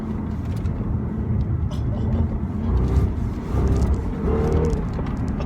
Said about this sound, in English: It's just growling at you, constantly growling.